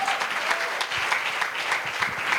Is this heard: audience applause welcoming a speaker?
yes